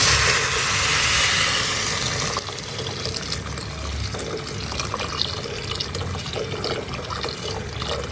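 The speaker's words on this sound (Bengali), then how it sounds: "এখন শুধু পানি দিয়ে দেবো" Water poured into a frying pan of fried food while cooking for Eid ul Adha, a loud close pour for about two seconds followed by sizzling, dripping and splashing.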